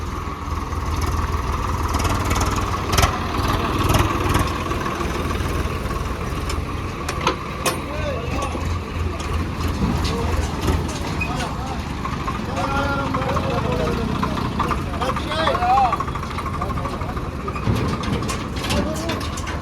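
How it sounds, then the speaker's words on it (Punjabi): Tractor engines rumble and idle steadily, with heavy low droning as they move off; people talk loudly over the engine noise. "ਲਓ ਜੀ ਬਾਈ ਜੀ ਆਪਣੇ ਟਰੈਕਟਰ ਹੋ ਕੇ ਰਵਾਨਾ"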